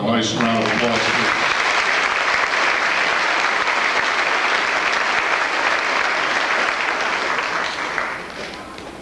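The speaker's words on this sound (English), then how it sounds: "Let's give them all a nice round of applause" Sustained audience applause at an 8th grade promotion ceremony at Stewart Middle School: a dense, steady wash of clapping from a large crowd, continuous for about eight seconds before tapering off at the end.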